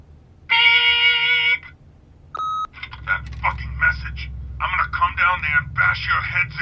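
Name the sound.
answering machine beep in The Wolf Among Us video game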